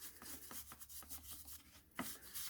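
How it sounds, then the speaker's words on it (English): Soft paintbrush scrubbing muck off a chainsaw air filter, giving a steady run of quiet rubbing and swishing strokes, close and faint, with no talking. "It will wash off the muck from the outside of the filter just with a paintbrush."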